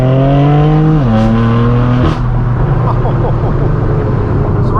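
A straight-piped BMW M4 F82 exhaust drones loud and close, its pitch stepping down as the engine shifts, then settling into a steady rumbling cruise heard from inside the car.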